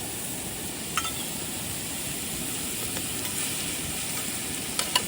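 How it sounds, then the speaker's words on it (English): Whole garlic cloves, chilies and ginger fry in oil with pork, giving a dense, even sizzle at steady volume and a couple of faint utensil taps. "add our whole garlic cloves, chilies and ginger"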